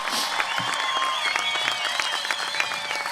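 Graduation audience at a high school ceremony applauds steadily throughout, a dense wash of many hands clapping with scattered cheers and whistles from the crowd.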